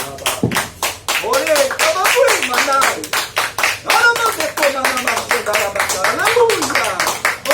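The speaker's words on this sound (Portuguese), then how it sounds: "Vamos aplaudir o Senhor esta noite." A church congregation at an evening worship service claps in a loud, rhythmic beat, with a voice speaking and singing over the clapping throughout.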